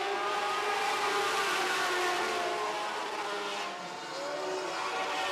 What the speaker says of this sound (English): Three very similar race cars up front.